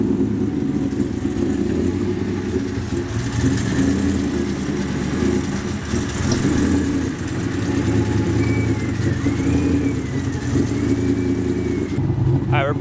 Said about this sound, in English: Oh, that's a pure cold start.